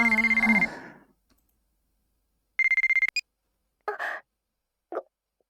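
A phone ringing in the White Album 2 visual novel: a short burst of repeated electronic ring pulses with a clear tonal pitch, followed by brief chime-like blips, set apart from the surrounding music and silence.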